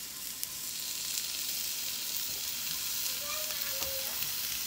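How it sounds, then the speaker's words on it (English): Italian meatballs sizzle and fry in a pan, a steady crackling hiss held close and fairly loud for the whole stretch, with a few faint scraping touches and no talking. "you hear the sizzle? It means it's ready."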